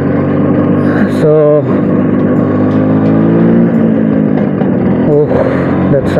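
A 1994 Bajaj Super 150 scooter engine runs steadily and loud, its pitch rising and falling as the rider works the throttle and clutch.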